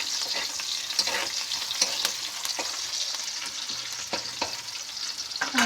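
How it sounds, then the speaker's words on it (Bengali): Onions frying in a pan for a jackfruit curry give a steady close sizzle with sharp scrapes and clinks of stirring scattered throughout. "পেঁয়াজগুলো লাল লাল করে ভেজে নিব"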